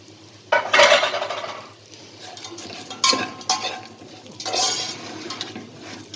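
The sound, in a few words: stirring bread frying in oil for fatteh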